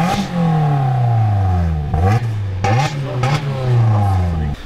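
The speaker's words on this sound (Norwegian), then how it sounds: "Men jeg tror dere skal bli overrasket når vi får startet alt den bilen her" Toyota Yaris fitted with an aftermarket exhaust, revving loudly and steadily close by, its engine note rising and falling through several throttle blips with a raspy, droning tone.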